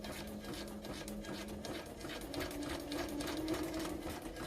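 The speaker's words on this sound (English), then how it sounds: "and just keep sewing" A sewing machine runs steadily as it sews small lace snippets and scraps of sari silk onto a fabric strip, with a fast, even mechanical whir and a faint rhythmic hum close by.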